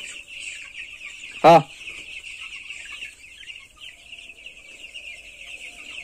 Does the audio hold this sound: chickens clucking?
yes